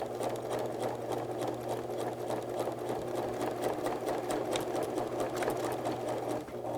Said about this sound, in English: I will back stitch a couple stitches